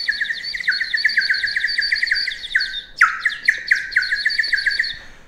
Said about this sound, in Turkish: Buna üfledikçe kuş sesi çıkartıyor.